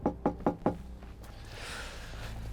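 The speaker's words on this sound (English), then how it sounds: "Should I knock on? Give a knock." Four firm, evenly spaced knocks on the front door of a neglected house ring out close by, followed by a quiet pause with faint room noise.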